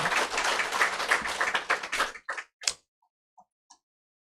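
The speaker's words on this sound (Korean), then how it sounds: "큰 박수로 환영해 주시면 좋겠습니다" Church congregation applause welcoming a guest: a short round of clapping that thins out after about two seconds into a few scattered, isolated claps before falling silent.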